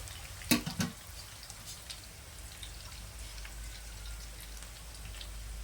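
Potato and bottle gourd sizzle steadily in a frying pan, a soft continuous crackle with a few sharper pops near the start.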